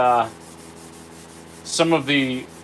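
An old square is rubbed with a Scotch-Brite pad, giving close, squeaky, tonal rubbing strokes: a short one at the start, a quiet gap, then a longer squealing pass near the end.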